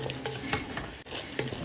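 A spoon stirs a sauce of garlic, paprika and hot pepper in a pan, giving a few soft scraping strokes over a faint sizzle.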